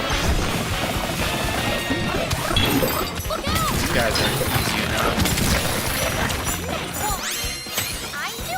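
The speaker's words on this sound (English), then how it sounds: "More items appear while smashing terrain." Donkey Kong pounds and smashes terrain in Donkey Kong Bananza, a dense, continuous run of crashing, shattering and thwacking impacts mixed with game effects, while someone talks over it.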